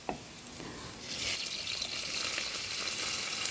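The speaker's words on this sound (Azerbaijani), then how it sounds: "Digər formanı hazırlamaq üçün kərə yağı ilə soğanı qovururuq" Chopped onion and asparagus fry in butter in a pan, giving a steady close hissing sizzle that grows slightly louder partway through, with no voices.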